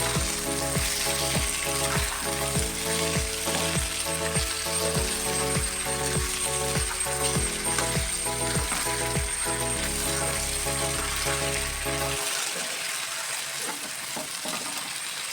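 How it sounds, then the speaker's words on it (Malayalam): Chopped brinjal stirred in a hot pan, a steady run of scraping, clattering strokes over a faint sizzle, close and alone with no talk, the stirring stopping near the end. "വഴുതന ഇട്ട് കൊടുക്കാൻ പോവുകയാണ് വഴുതന ഇട്ട് കൊടുക്കും അത് നന്നായി ഒന്ന് ഇളക്കി കൊടുക്കുക"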